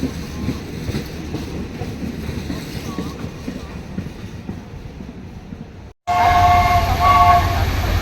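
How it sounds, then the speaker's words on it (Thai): A steam locomotive, number 850, shunts a special excursion train near Bangkok railway station. A low rolling rumble is followed after a brief cut by a louder, nearer stretch with a sustained whistle tone. "ตอนนี้หัวรถจักรไอ้น้ำก็กำลังจะทำการสับเปลี่ยนเป็นขบวนเที่ยวกลับเข้าสถานีรถไฟกรุงเทพนะครับ"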